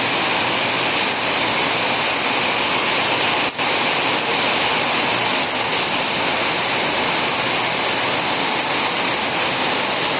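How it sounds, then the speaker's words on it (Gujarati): Heavy rain pours down in a dense, unbroken roar, loud and close, without pauses or voices. "કડાકા ભડાકા સાથે ધોધમાર વરસાદ પડી રહ્યો છે"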